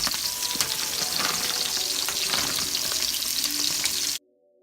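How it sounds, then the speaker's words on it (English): Frozen red skin roasted potatoes sauté with green beans in a pot, giving a loud, steady sizzle and crackle with faint stirring scrapes, ending abruptly in near silence. "I add these to the pot with the green beans. And let them saute with them."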